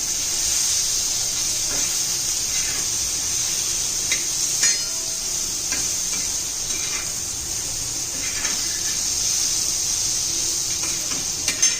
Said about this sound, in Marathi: आणि मग अंड्याच्या पोळी घालू चांगला तर फ्राय करून घेऊ